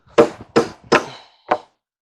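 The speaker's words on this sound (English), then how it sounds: "I'll keep hammering until it comes through," Four sharp hammer blows ring out on a pole barn purlin, the first three in quick succession and a softer fourth after a short pause.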